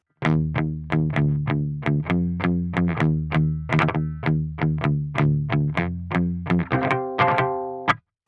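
Distorted electric guitar played through a Holy Island Audio Tides pedal on its version 1 voicing, a bright and only lightly saturated tone. A steady run of plucked notes, palm-muted, ends on a few ringing chords, loud and up front.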